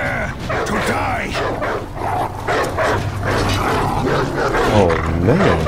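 Several dogs in the video game For Honor bark, yip, snarl and whimper loudly and close up in a busy, continuous mix with combat noise and voices.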